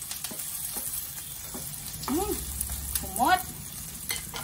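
Ginger sautéing in a pan for Bicol Express, a steady sizzling hiss running under a woman's brief speech, with a couple of louder moments near the end.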